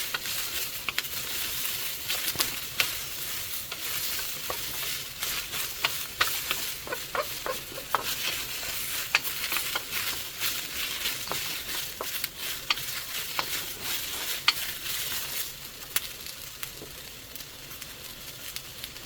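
Liver bowl ingredients sauté in hot oil in a pan, giving a continuous bright sizzle with scattered crackles and occasional scraping stirs, steady and close with no talking.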